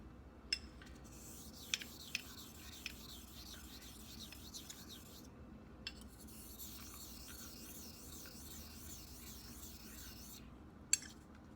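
Steel blade honed on an Ozuku Asagi natural whetstone with slurry, following a Chosera 1K stone, giving faint, steady rhythmic rasping strokes in back-and-forth cycles with a few brief clicks, no talk.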